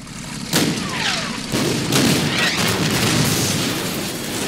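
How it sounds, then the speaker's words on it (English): In the strategy game Order of Battle Endsieg, a heavy booming explosion bursts out and rolls into a dense, sustained rumble of blasts and crackling debris, loud and continuous. "I always love to see those scrap pieces just flying everywhere from the explosion."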